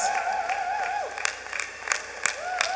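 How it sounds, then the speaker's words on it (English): A graduating Class of 2021 at Baltimore Design School applauds itself, sparse claps and a few cheers over a sustained tonal hum, with scattered louder claps standing out near the end. "Give yourselves a round of applause"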